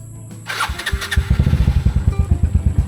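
A motorcycle engine starts with a brief crank, then catches and settles into a loud, close, steady lumpy idle that pulses rhythmically.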